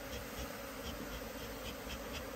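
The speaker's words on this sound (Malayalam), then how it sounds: "നമ്മൾ പെരിക്കുമ്പോൾ തന്നെ നല്ല ഈച്ചയുള്ള കൂടാണ്." Honey bees buzz densely around a beehive while a queenless colony is tended, a steady close hum with no talk.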